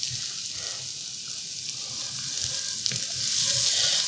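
Fideo pasta sautéing in a pan, a steady close sizzle and hiss with light stirring scrapes, growing slightly louder toward the end.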